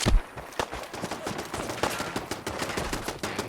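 Turrets fire in the video game Fallout 4, rapid rattling automatic bursts that keep going close and steady after a heavier opening shot.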